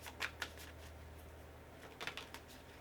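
Tarot cards handled and shuffled at close range, with brief papery riffles and flicks in two short bursts over a low steady hum.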